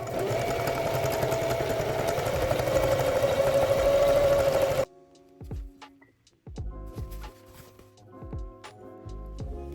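Sewing machine top stitching twill tape over a raw seam on a quilted bag, a fast, steady whirring run of stitches for about five seconds, then it stops, leaving scattered soft clicks and fabric handling.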